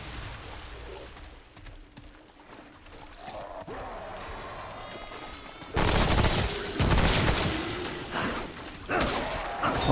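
SMG fire in the video game Remnant: From the Ashes, with scattered shots early on, then loud sustained bursts of rapid automatic gunfire and heavy impacts in the second half.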